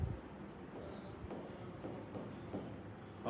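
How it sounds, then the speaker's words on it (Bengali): Chalk or a marker moves across a board as the title of an organic chemistry lecture is written, giving faint, steady scratching strokes with small taps, heard alone at low level. "তাহলে আমরা প্রথমে লিখি অর্গানিক কেমিস্ট্রি।"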